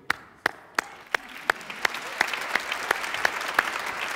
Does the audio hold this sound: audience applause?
yes